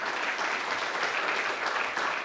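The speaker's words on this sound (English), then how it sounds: "A round of applause." Sustained audience applause at a university research week conference on the circular economy, a thick even wash of many hands clapping, loud and continuous with no talk.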